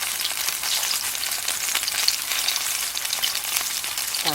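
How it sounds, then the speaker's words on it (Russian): Homemade meat patties sizzle and crackle steadily in a hot pan, a dense continuous frying hiss with small pops throughout, no talking. "Так, пусть жарятся."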